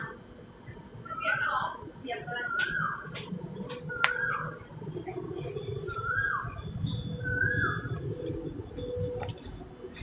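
A cat meows about five times at an even pace, each call short and fairly faint, over a low background hum with people talking nearby.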